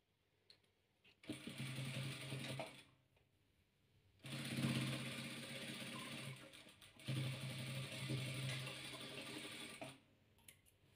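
Patchwork pieces for a three-colour chain quilt are stitched on a sewing machine, which runs in three sustained whirring bursts with short quiet pauses between them.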